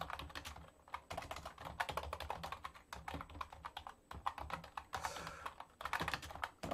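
Close-up clatter of an old, noisy computer keyboard, keys struck in quick irregular bursts with short pauses, loud and hard against a quiet room.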